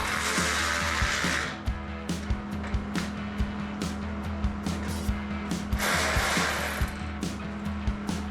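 Bolts being tightened on a cheap welding table in a workshop, a fast repeated ratcheting click close by under a steady hum, with brief pauses between bursts of cranking.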